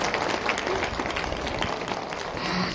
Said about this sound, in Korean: 이제 알았으면 박수나 쳐보시오